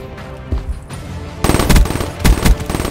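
Rapid automatic gunfire from a Black Ops 3 match, loud close bursts of shots after a quieter opening with scattered thuds.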